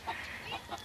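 A chicken perched up in a tree gives a few soft, faint clucks in quick succession, heard on its own in an outdoor setting.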